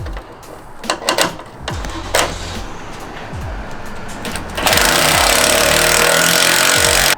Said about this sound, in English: I'm going to zap it in with my 14mm socket.